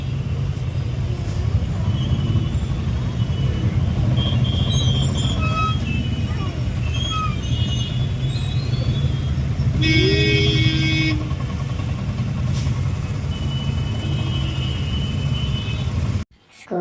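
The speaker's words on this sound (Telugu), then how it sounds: "ఫుల్ ట్రాఫిక్ ఉంది మా నగర్ ఫైర్ జంక్షన్ కూడా" Heavy road traffic at a busy Indian junction, heard from inside an auto rickshaw: a continuous engine rumble of cars, motorcycles and buses, with a brief horn or brake hiss midway, before it cuts off near the end.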